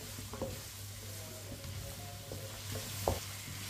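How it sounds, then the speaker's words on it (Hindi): Chopped bottle gourd frying in a pan on medium heat, a steady close sizzle with a spoon stirring and scraping in intermittent knocks, one sharper clack near the end; no voices. "कद्दू को चम्मच चलाते हुए फ्राई करना है।"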